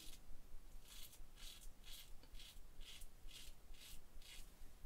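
Double-edge open comb slant safety razor making its first pass with the grain, heard as about eight evenly spaced, close, soft scraping strokes over a low background hiss.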